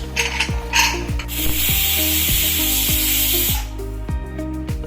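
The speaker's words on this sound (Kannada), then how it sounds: "ನೋಡಿ ಇವಾಗ ಇದು 2 ವಿಷಲ್ ಆಗಿದೆ" A pressure cooker of ghee rice vents on the stove, a loud hissing whistle bursting out for a couple of seconds over a rhythmic mechanical rattling, close and alone.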